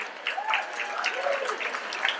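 Audience applause for a ten-year-old girl before she sings at an evening event, steady moderate clapping with some voices mixed in throughout.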